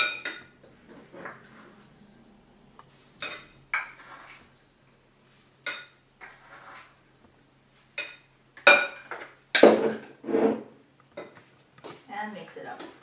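A spoon stirs oats and mashed banana for healthy cookie dough in a bowl, producing intermittent scraping clinks against the bowl at close range, with speech heard in places.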